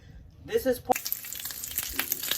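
Bacon fries on top of a stove, a quiet sizzle that swells into a sudden crackling burst and then keeps hissing and popping steadily.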